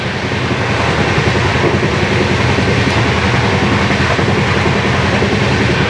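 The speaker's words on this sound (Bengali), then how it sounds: "বাইরেও প্রচণ্ড আওয়াজ হচ্ছে ট্রেন কিন্তু খুব স্পিডে চলছে" Farakka Express passenger train running at high speed, around 108 to 110 km/h, heard as a loud, steady rumble and roar of wheels and wind that continues unbroken throughout.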